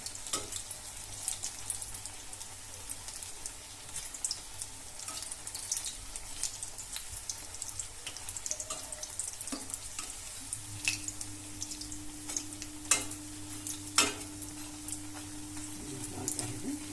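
Capsicum bonda fry in oil over a low gas flame, giving a soft, steady crackle and bubbling sizzle that carries on alone without pause.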